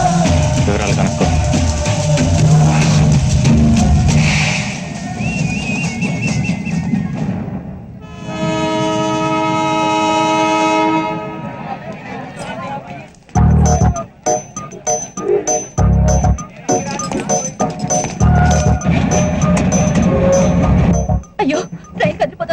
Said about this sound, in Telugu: అయ్యో ట్రైన్ కదిలిపోతుంది.